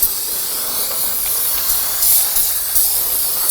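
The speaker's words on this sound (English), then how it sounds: "I want to spray down all of the parking brake equipment here." Aerosol solvent sprayed onto the rear parking brake shoes and hardware of a 2005-2009 Subaru Legacy, a steady close hiss of spray that runs with small surges and no talking.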